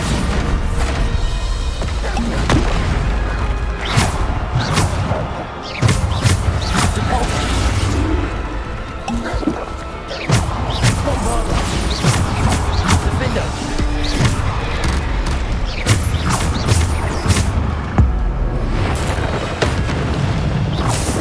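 Bombarda explosion spells in the Hogwarts Legacy video game: repeated booming blasts and crashing impacts amid dense, loud, continuous combat effects, with someone speaking over them.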